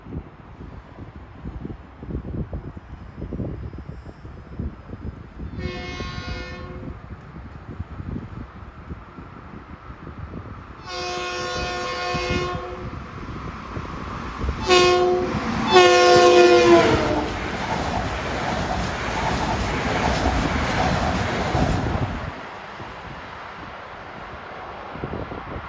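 A westbound M7 electric multiple-unit commuter train runs through at track speed near Deer Park and Farmingdale, its horn sounding in several blasts over a steady rumble that swells as it passes and then fades.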